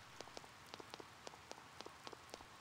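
Rain falling in the video game Persona 4, a soft continuous patter with distinct droplets ticking irregularly on a surface, faint and steady with no voices.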